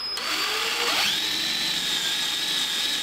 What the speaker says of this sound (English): I drill through the top of the leg with a 3/8 inch drill bit